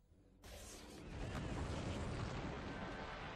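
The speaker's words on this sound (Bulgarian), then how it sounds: "Това гръм ли беше?" A deep, rolling rumble of thunder swells in from a quiet background and sustains loudly, a broad low roar carrying on without a clear end.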